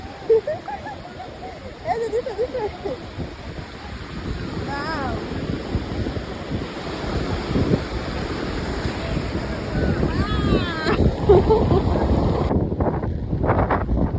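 Strong wind buffets the microphone over steady surf rolling onto Guliakhali beach under a cloudy monsoon sky, a continuous roar that builds toward the end, with faint voices underneath.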